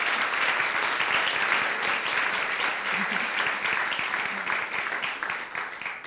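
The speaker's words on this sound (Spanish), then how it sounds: "Un aplauso a los chicos." A dense wash of audience applause for students at a school-of-the-future keynote session, steady and moderately loud throughout with no voices over it.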